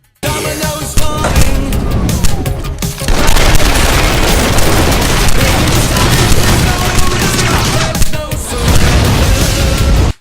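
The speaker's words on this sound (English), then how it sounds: "Then you can put all the explosions that you want." Dense, continuous barrage of booming explosions and rapid gunfire, loud and sustained, with a brief lull before the chaos resumes at full intensity.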